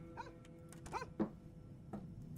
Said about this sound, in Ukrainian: Чую, пес гавкає.